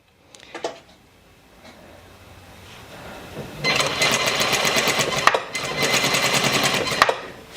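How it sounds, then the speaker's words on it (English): A sewing machine stitches bias tape onto a dress in two sustained, steady runs with a short pause between them, fairly close, with a few light handling clicks before the first run. "I'm going to go back an inch over where I last stopped the bias tape and start sewing again"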